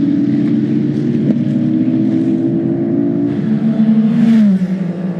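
A race car howls down the straight at the Bahrain 8 Hours endurance race, a loud, sustained engine drone that holds steady and then drops in pitch near the end as it passes close by.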